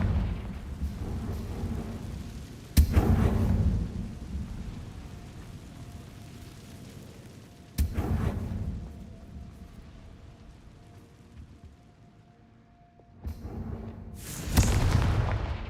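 Booming fire-spell explosions in a Harry Potter video game go off in three loud bursts, each a sharp blast followed by a rumbling decay, with quieter ambient game sound filling the gaps.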